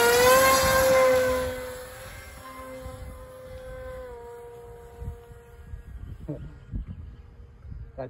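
An electric motor on a foam board RC Sopwith Pup biplane buzzes loudly at first on its maiden flight, then fades to a thin distant whine as the plane moves away, with outdoor rustle and soft thumps beneath.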